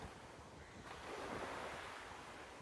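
A sea wave draws back across a sandy beach, a broad hissing wash that builds and then eases into a steady surf roar, with faint wind noise and no talking.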